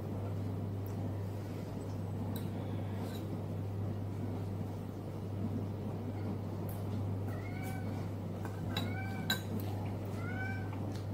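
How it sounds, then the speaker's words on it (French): A house cat meows several times in short rising calls toward the end, fairly quiet against a steady low hum in a home. "Si vous entendez mon chat miauler"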